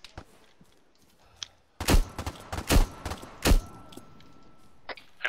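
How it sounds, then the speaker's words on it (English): Gunfire in the modded military shooter Arma 3: several loud, sharp shots, spaced irregularly and echoing in the middle, quiet ambience with faint background noise before and after. "Shots."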